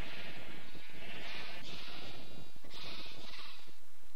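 Sheep bleat in a video game, several drawn-out calls rising and falling one after another over a steady background, close and clear, with no talking.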